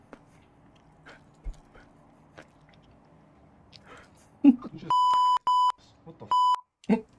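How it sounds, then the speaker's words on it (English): Three loud electronic beeps, each a sustained pure tone of under half a second, sounding in quick succession among scattered quiet noises and brief voices. "That beep was way loud."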